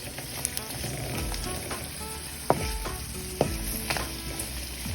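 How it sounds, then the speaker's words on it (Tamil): Onions and fresh green curry leaves sauté in a pan with a steady sizzle, broken by a few sharp scrapes and clicks of a spoon stirring through them. "நல்லா வதக்கி விட்டுக்கோங்க."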